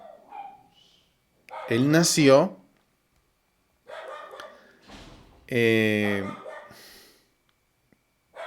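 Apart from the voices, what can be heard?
dog barking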